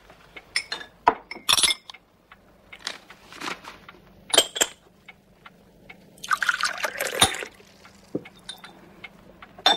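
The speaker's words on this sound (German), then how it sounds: "Gieß warmes Wasser in die Tasse und wasch es ab." A cup being rinsed with warm water: clinks of china against china and a trickle of running water come in short, uneven bursts, with a longer splash of water toward the end and no talking.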